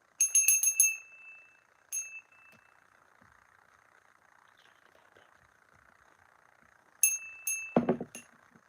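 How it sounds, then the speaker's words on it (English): A small hand bell rings in a quick cluster of bright strikes, falls quiet for several seconds, then rings again in a second short burst near the end. The ringing is close and clear with no talking. "Should we ring my bell? We can ring my bell."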